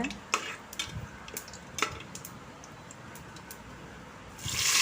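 Star anise and cloves drop into hot oil for mutton biryani, giving a low, steady sizzle dotted with small stirring clicks, then a loud hiss of frying surges at the very end.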